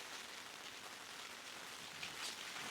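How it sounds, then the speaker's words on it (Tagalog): Rain falling on a tent at a campsite, a steady, even hiss of drops with no talk, faint and constant from start to finish. "Umuulan na naman."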